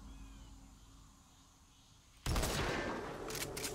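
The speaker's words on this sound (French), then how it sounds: "Est-ce qu'avec ce sniper là je lui explose le crâne?" A sniper rifle fires in Metal Gear Solid V: after a quiet ambient stretch, one sudden loud, close shot bursts out, followed by a rumbling echo and a few crackling aftersounds.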